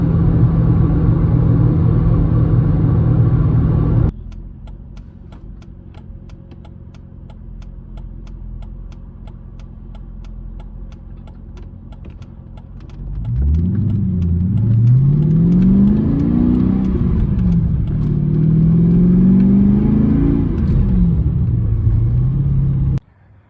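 A Mercedes C55 AMG with the M113 engine and six-speed manual swap cruises, then pulls in sixth gear, its deep exhaust drone rising and falling loudly inside the cabin after a quieter steady stretch.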